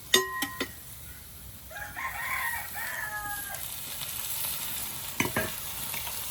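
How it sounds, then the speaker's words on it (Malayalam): Chopped tomatoes tipped into a pan of frying onions for a home chicken curry, giving a soft sizzle and stirring scrapes, with a few sharp clinks of utensil against pan near the start and end. "അപ്പൊ അതിലേക്ക് അമ്മ തക്കാളി ഇട്ട് കൊടുക്കണം."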